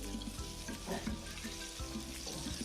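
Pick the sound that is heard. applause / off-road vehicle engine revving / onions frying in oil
onions frying in oil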